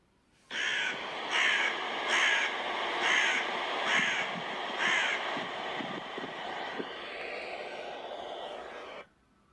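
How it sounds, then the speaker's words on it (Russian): A crow caws six times in a steady, evenly spaced rhythm, loud and clear over a constant background hiss, then the calls stop and the hiss continues. "думала ворона и каркала от злости"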